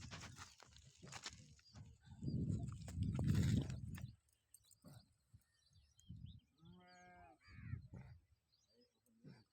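A cow on a village farm gives a couple of low, drawn-out moos close by, separated by quiet rural background with faint ambient noise.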